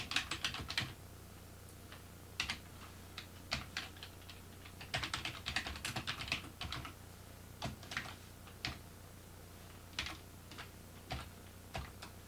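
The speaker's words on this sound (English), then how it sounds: "Here I'm just typing on." Keys clatter on a TI computer keyboard while entering code in a Pascal editor, irregular bursts of close, crisp clicks with short pauses between, no voices.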